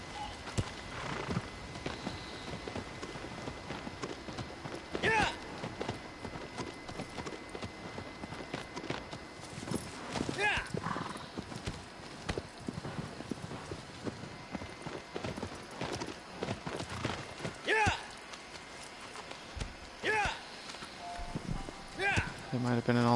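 A horse's hooves clip-clop steadily in the Shadow of the Colossus video game, with a few sharper hits and speech faintly over the long run.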